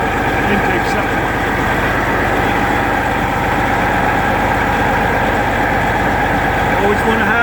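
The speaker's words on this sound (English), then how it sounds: "The engine's automatically coming up." A marine booster pump engine at a Curtin Maritime booster unit runs loud and steady, a dense mechanical drone with a constant low throb that holds evenly throughout, close by.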